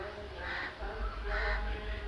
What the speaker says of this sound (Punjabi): ਇੱਥੇ ਬਹੁਤ ਸਾਰੇ ਪੰਛੀ ਦਰਖਤਾਂ ਤੇ ਆਉਂਦੇ ਆ ਜੀ